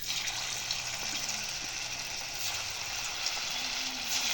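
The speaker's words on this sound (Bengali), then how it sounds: "এখন এগুলোকে আমি তেলে ভাজব।" Vegetable kofta balls frying in hot oil in a wok, a steady faint hiss and bubbling sizzle throughout with a few soft clinks.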